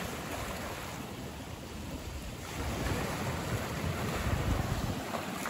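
Ocean surf on a Gulf of Mexico beach in Florida rolls in as a steady broadband wash with heavy wind buffeting the microphone, swelling louder midway, with no one speaking.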